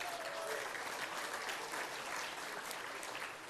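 A large crowd at an awards ceremony gives Merit Award winners a dense, continuous round of applause, loud and sustained throughout with no break.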